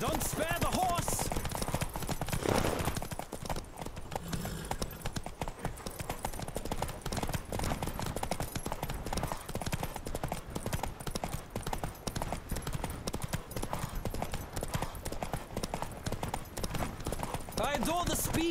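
Steady rhythmic hoofbeats of a galloping horse in The Witcher 3: Wild Hunt run throughout, with a voice speaking over them and a continuous background wash.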